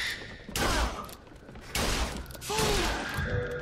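Gunfire bursts from a first-person shooter video game, BioShock Infinite, come in three loud volleys mixed with mechanical clatter and short whistling game effects.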